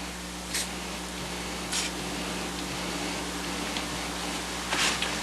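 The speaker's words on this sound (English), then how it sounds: "get out a little bit of WD-40, put that little tip on the pen" WD-40 sprayed from a can onto a hinge in three short hissing bursts, separated by quiet pauses, over a low steady background hum.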